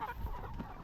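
Poultry chickens on a farm clucking softly and continuously at a distance, a low murmur of several birds with no talk over it.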